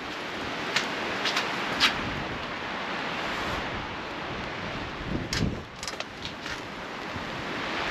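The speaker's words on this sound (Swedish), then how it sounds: "Nu börjar det blåsa lite mer" Strong, hard wind blowing steadily outdoors near a parked camper's awning held by suction-cup mounts, a constant broadband roar with buffeting gusts and a few faint knocks.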